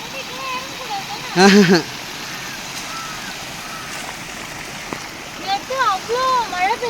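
Water pouring and flowing in a stream across red-soil ground after a night of heavy rain, a steady wash running throughout, with a louder splashing burst near the start and people talking over it.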